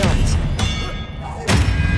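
An Expelliarmus spell cast in Hogwarts Legacy lands as two heavy thuds, one early and one later, each a close, punchy impact with a short ringing tail.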